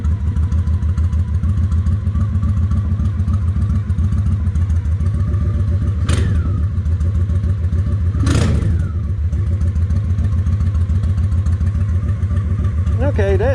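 Honda 750 Ace Deluxe motorcycle engine idling steadily up close with an even, loping beat throughout, broken by a couple of brief sharp knocks or clatters.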